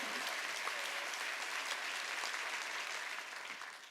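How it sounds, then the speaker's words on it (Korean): A church congregation applauds during a Korean Sunday worship sermon, a dense, steady wash of many hands clapping that holds evenly for about four seconds and thins slightly at the end. "박수"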